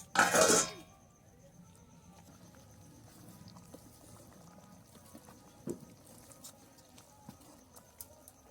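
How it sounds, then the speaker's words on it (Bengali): A lid is set onto a clay pot of simmering chicken ghugni, one short loud clattering knock at the start, followed by faint kitchen clinks in a quiet room. "এবার আমি ঢাকনাটা দিয়ে দিচ্ছি ততক্ষণ।"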